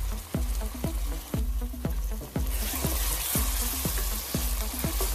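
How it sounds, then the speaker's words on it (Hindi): Onions with ginger garlic paste frying in a pan over high flame for aloo methi, a loud steady sizzle with rhythmic scraping strokes of a spoon stirring roughly twice per second, no talking. "चम्मच चलाइए, 1-2 मिनट भुनाई करें, फ्लेम हाई होना चाहिए।"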